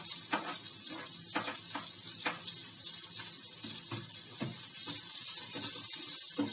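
Onion and ginger fry in hot oil as a base for crispy masala taro root, with a steady soft sizzle and scattered light scrapes and clicks of stirring.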